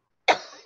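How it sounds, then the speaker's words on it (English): A single sharp, close cough erupts after a moment of silence, then trails off with a brief breathy tail and a small catch at the end. "let me get my coughs out"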